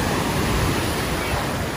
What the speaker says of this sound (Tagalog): So ayan ang dagat.